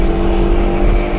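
A 2024 Ford Mustang EcoBoost drives hard on a race track, its engine a constant, loud droning hum heard from inside the car, with no pause or change in pitch over the short stretch.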